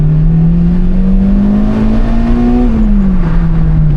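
A Honda Civic Type R EP3 engine roars loudly and steadily, its pitch climbing as it accelerates, then easing slightly as it shifts.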